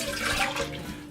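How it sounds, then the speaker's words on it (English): Water poured into a tomato sauce mix in a cooking pot, a short, close, steady splashing pour lasting about a second with no talking. "So we're going to add about 12 ounces of water"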